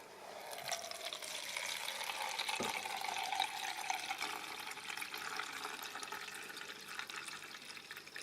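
Water pours steadily into a glass beaker from a reservoir during a volumetric flow-rate experiment, a continuous close splashing stream with a brief knock partway through and no talking.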